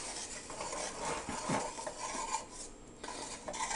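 Whisk scraping and clinking steadily inside a pot of homemade spicy BBQ sauce on a medium-heat burner, a busy continuous stirring rasp with metallic taps, close and fairly loud, with no talking.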